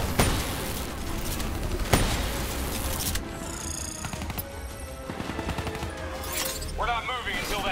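Sustained automatic turret fire in the Black Ops 3 Provocation mission at a bio dome facility, a loud rapid rattle with sharp shots and booms, fading into scattered bursts and effects near the end.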